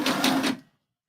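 A sewing machine stitches bra fabric in one short, quick burst of rhythmic mechanical pulses lasting about half a second before stopping into silence.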